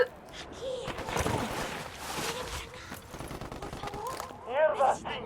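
Sniper gunfire in a Ghost Recon video game: a burst of sharp shots clustered in the first couple of seconds, followed by scattered cracks and shuffling, with gasping and voices near the end.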